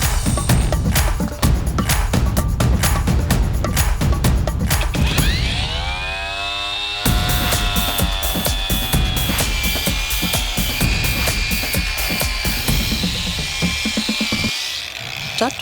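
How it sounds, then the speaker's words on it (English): An abrasive brush on a power tool grinds and scrubs against metal in a beginner's welding workshop, a loud, continuous harsh roar with one spin-down and restart midway. "One of the things I bought when setting up the space was a abrasive brush"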